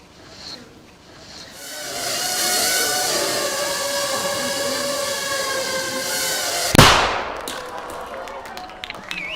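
A tiny shaped explosive charge of three grams goes off in one sharp, sudden bang near the end, preceded by sustained tonal sounds and what seems like voices.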